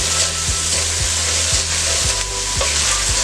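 Hamburger Helper cheesy beef pasta mix being stirred in a hot pan on medium high, with a steady loud sizzle and a spoon scraping the pan in regular strokes about every half second, close up, no voices.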